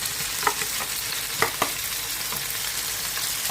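Shallots and green chillies sauté in hot oil for a Kerala pearl-spot fish dish, a continuous bright sizzle broken by a few sharp spoon-on-pan stirring knocks, close and without speech.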